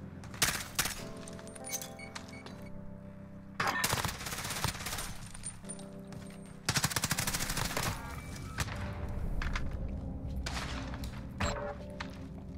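Bursts of M4 SMG automatic gunfire in Modern Warfare Search and Destroy rattle out in several loud, rapid strings separated by short pauses, with thuds and game noise between them.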